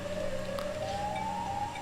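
A Siren Head creature in a video game lets out a steady, rising electronic siren wail that climbs slowly in pitch and fills the short moment without any voices.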